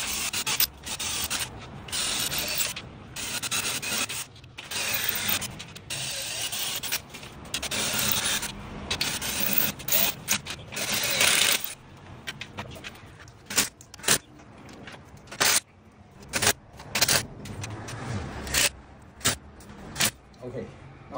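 A power driver sets screws while an indoor air conditioner unit is mounted on a wall, with long buzzing driving bursts early on, then shorter clicks and whirs later, heard close and without talk.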